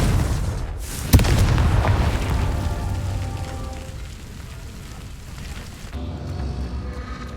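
A Confringo fire blast spell in the video game Hogwarts Legacy detonates with a sharp, loud boom, then a crackling, rumbling tail slowly fades over the game's background sound.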